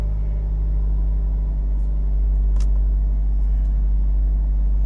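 A Honda Civic Type R FL5 fitted with a Spoon part idles just after starting, a steady, loud low-pitched hum and rumble up close, with a couple of faint ticks in the background.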